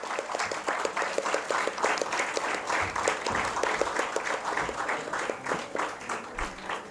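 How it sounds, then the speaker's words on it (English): An audience applauds a debate panel at a law college policy debate, with dense, lively clapping that swells and holds steady, a few louder claps near the front, and some murmured voices underneath. "Please join me in a round of applause to celebrate this fantastic panel."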